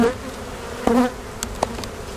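Honey bees buzz steadily around an open hive during a hive split, a constant close hum with individual bees droning louder as they pass near.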